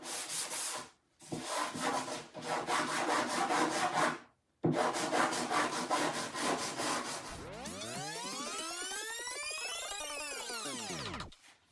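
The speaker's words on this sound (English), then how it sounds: "sanding it helps that kind of round the edges off a little bit" Steady back-and-forth sanding on the edges of a wood door, several rasping strokes separated by short pauses, then layered swooping electronic tones take over.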